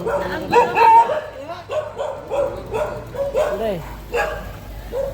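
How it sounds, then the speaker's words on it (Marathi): Several dogs barking and yipping in quick succession, some whining mixed in, fairly close and loud, with a person's voice also present. "कुत्र्यांचा आवाज जाम आहे बाबा, जाम बघतो."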